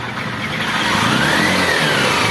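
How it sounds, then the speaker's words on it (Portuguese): A Honda Fan 125 motorcycle engine, recently repaired, revs up loudly and close, rising into a sustained whine with a thin whistling tone and no speech over it. "dá uma acelerada aí"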